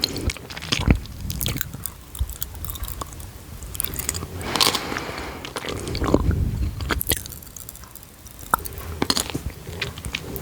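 Close-up crackling and fizzing of popping candy with chocolate in a mouth, irregular tiny pops mixed with wet chewing sounds, fairly loud and continuous.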